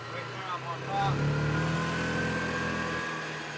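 A Cub Cadet Challenger MX 750 EPS UTV engine drones steadily while the side-by-side drives along, a mid-pitched hum that swells and holds at a fairly loud level.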